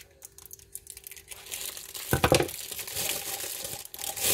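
Scissors snip through a plastic piping bag to open it for a piping tip, a close crinkling cut burst near the middle after quieter handling rustles.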